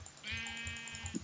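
A sheep bleats in the video game Minecraft: one clear, wavering bleat lasting about a quarter of a second, fairly close, followed by a soft low thump.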